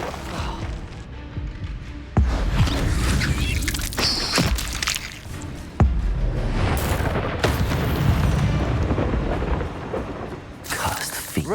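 Confringo fire spell explosions in the Hogwarts Legacy video game, several heavy booming blasts over a continuous rumbling roar that stays loud throughout.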